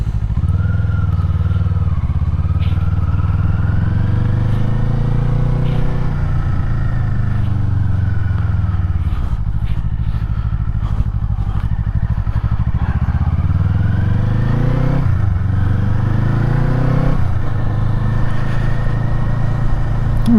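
A Kawasaki Eliminator 500 motorcycle with a stock exhaust cruises through town with a steady, moderate engine drone. The pitch shifts smoothly with several gear changes and throttle swells, and wind noise sits underneath while a rider talks over it.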